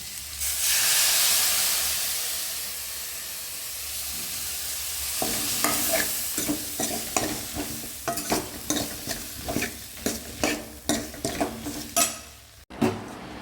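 Water poured into a hot cooking pan sends up a loud, broad hiss and sizzle that fades. Rhythmic spatula scrapes and clinks follow as the food is stirred, ending with a sharp clack of utensil on pan.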